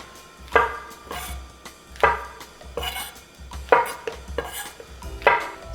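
Chestnut mushrooms being halved with a knife on a cutting board, about eight crisp, close chopping knocks in an uneven rhythm, with quiet handling sounds between cuts and no talk.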